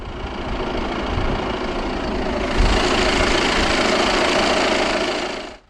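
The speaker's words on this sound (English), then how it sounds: "This A5 Sportback is fitted with a 2-litre, dual overhead cams, 16 valves turbodiesel inline-4 engine" A 2016 Audi A5 Sportback 2.0 TDI quattro, a 2-litre 16-valve turbodiesel inline-4, idles with a steady, dense diesel clatter that swells slightly midway and holds close and loud until it cuts off at the end.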